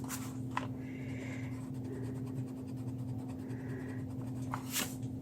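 A pencil eraser rubs marks off a book page in short scratchy back-and-forth bursts, close and soft over a steady background hum.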